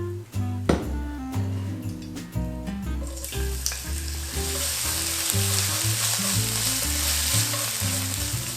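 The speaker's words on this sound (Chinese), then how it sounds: "现在来爆香我们的干辣椒跟老姜丝" Dried chilies and shredded ginger sizzle loudly in hot oil, with a steady bright frying hiss that swells and holds throughout, punctuated early by a few clinks of a utensil against the wok.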